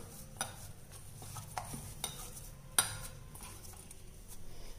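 Banana kozhukattai dough kneaded firmly by hand: soft, faint squishing and pressing sounds with a few light clinks, quiet and close, with no voices.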